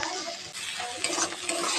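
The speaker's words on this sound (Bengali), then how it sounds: "এটাকে ভালো করে নাড়তে থাকবো।" An egg and semolina mixture is stirred in a pan after about a bowl of water goes in, giving a wet scraping swish with light sizzle and a few brighter clinks against the pan.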